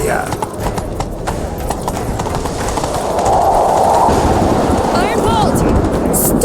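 A horse gallops in The Witcher 3 in a fast, steady drum of hoofbeats that grows louder midway, with a voice calling out over the pounding.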